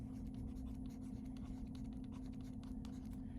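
Pen or pencil scratches across paper while plotting points for a rotations lesson, a soft, continuous run of short strokes over a strong low hum.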